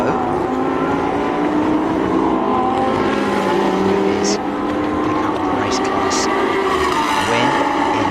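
Lamborghini Super Trofeo race cars battling on the last lap at Shanghai, a loud, continuous engine roar with pitch rising and falling as cars pass, while a commentator talks over it.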